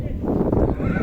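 At a horse market in Tokmok, a horse gives a short, close neigh that rises and wavers for about a second, loud against the market's background.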